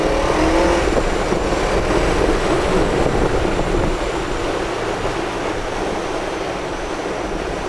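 A BMW K1200RS motorcycle engine drones steadily while riding, loud and close, with a dense broadband roar that could also be wind rush, holding an even level throughout.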